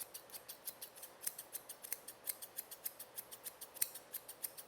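Scissors trimming the face hair of a miniature schnauzer during grooming, a quick steady run of about twenty crisp snips, close and quiet, with no talking.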